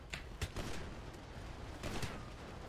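Gunfire in the GTA V video game: a few sharp shots rattle out in short bursts, fairly faint, over a continuous rumbling game background.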